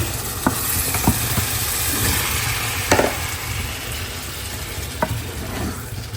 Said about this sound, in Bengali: মুরগির কলিজা গিলা এখানে রান্না করতেছি